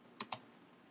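Two quick, close key clicks on a computer keyboard, faint and isolated in a quiet room.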